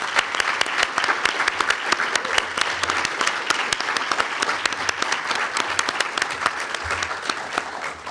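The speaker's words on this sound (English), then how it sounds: "ladies and gentlemen, please join us in giving them another round of applause" Steady round of clapping from a gala crowd honoring award recipients at the 2022 Proud of Them Gala, full and continuous at close range, with a few sharp individual claps standing out and no voices.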